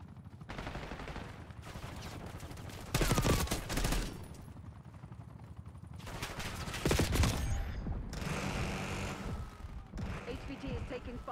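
Gunfire from the video game Black Ops 6 erupts in bursts of rapid automatic shots and heavy blasts, loud and close, separated by quieter stretches of battle ambience and radio voices.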